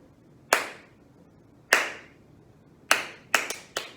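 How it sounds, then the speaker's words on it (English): Children in an elementary music class clap a rhythm together: two slow, crisp claps followed by a quicker burst of four, loud and close with no talking. "we're going to clap a rhythm and it sounds like this"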